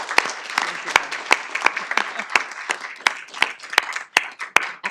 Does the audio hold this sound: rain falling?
no